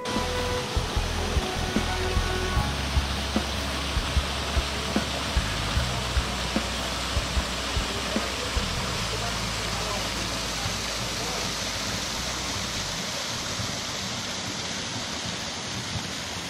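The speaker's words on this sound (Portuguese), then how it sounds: "Essa daqui é a parte de baixo aqui da cachoeira" Continuous broadband rush of water at the base of a waterfall, steady and fairly loud, with a few faint clicks and thumps early on.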